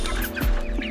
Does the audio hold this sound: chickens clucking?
yes